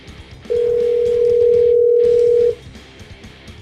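A phone call's steady dial tone sounds alone for about two seconds, a clear continuous pure tone that starts abruptly and cuts off, with quiet room noise before and after.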